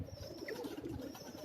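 Pure Indian Dubas pigeon, an old bird about fifteen years of age, giving soft low throaty coos on a rooftop, close and brief with faint background hiss.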